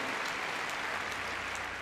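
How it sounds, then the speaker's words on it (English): An audience at a Crufts gundog display claps steadily, a dense, even patter of applause from a crowd at moderate distance, sustained throughout. "Big round of applause."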